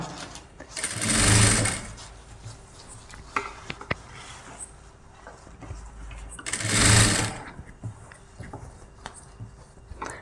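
Sewing machine stitching close along the edge of a neckline, with two loud, sustained runs of stitching separated by quieter handling clicks and rustling of fabric.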